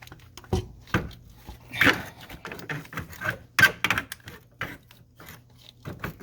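A loose turbo being lifted and worked out of a 7.3L Power Stroke diesel engine, heard as scattered metallic clanks, knocks and scrapes coming in irregular bursts at close range.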